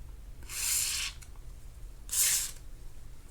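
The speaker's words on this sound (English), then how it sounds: "I'm going to spray these things down with some corrosion ash." Two short hissing bursts of corrosion-treatment spray hit disassembled fishing reel parts from a Shimano Talica 16 2-Speed reel, close and clear against quiet background hum.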